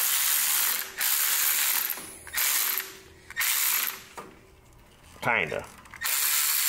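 Socket wrench ratcheting on an obsolete engine, several bursts of fast clicking separated by pauses, close and fairly loud, with a brief spoken word partway through.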